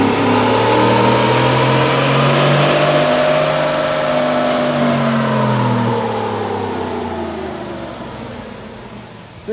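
A Ford Raptor's 6.2-liter V8 pulls hard on a chassis dyno, a loud, steady engine roar climbing in pitch through the gears, then easing off and fading toward the end.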